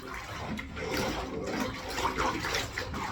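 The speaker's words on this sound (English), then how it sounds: "A little shake to get that water running through it." A CPAP machine part is shaken under a running tap, water gushing and sloshing through it steadily with uneven splashy surges.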